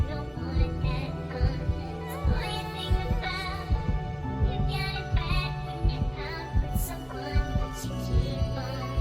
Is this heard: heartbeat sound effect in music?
yes